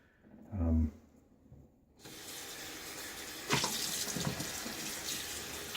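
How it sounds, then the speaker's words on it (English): Tap water runs steadily into a sink, rinsing lather out of the threads of a shaving soap puck, with a brief splash before a continuous, fairly close wash of flowing water. "Rinsing out my soap puck here."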